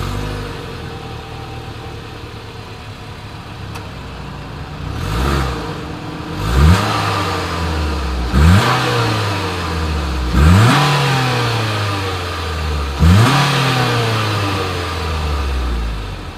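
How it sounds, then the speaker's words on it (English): The exhaust of a 2020 Mitsubishi Outlander Sport idles steadily, then rises in five sharp revs that each climb quickly and fall back to idle, loud and close, with no talking. "Here is that exhaust clip."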